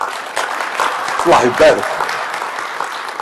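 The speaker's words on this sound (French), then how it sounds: "Applaudissez-la pour moi" Applause from an audience at a talk on conflict management, building under a speaker's voice with a couple of louder bursts midway.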